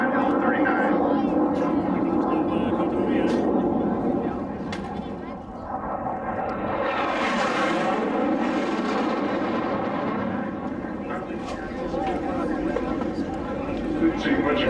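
Racing jets, including an L-39, roar past at the Reno air races in 2008, swelling and fading as they pass through, heard under a continuous commentator's voice.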